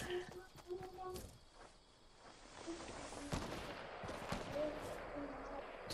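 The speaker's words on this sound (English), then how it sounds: "Semi-auto to our left." Semi-automatic gunfire in the Fortnite video game, a scatter of sharp shots popping at an irregular pace amid game effects and background noise, fairly quiet and set back in the mix.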